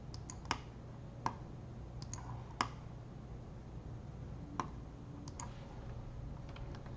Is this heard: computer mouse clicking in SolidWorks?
yes